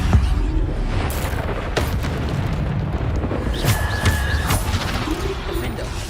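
Bombarda explosion spells cast in Hogwarts Legacy, heard as loud booming blasts with sharp bursts over a dense, continuous rumble of game combat noise.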